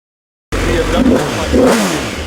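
Dinan-tuned BMW M6 making 620 horsepower, revved sharply twice in quick succession after a moment of silence, loud and close, settling back to a throaty idle.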